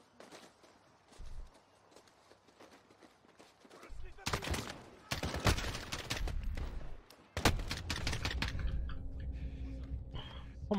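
Bursts of gunfire in Call of Duty Modern Warfare's realism campaign, played on PC, with loud clustered shots and rapid volleys between quieter stretches and footstep-like movement.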